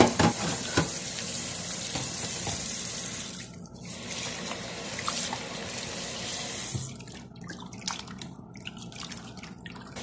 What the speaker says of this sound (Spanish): El primer paso será lavar la cabeza con suficiente agua.